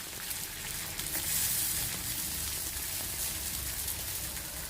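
A sweet snack of rava (semolina) and banana frying in ghee over a medium-high flame, giving a steady, close hiss of crackling fat that holds throughout with no talking.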